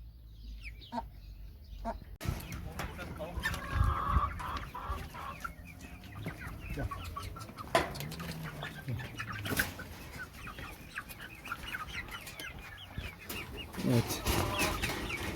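Sussex chickens clucking softly in a coop during vaccination, scattered calls over a low background rustle, with a bit of handling noise.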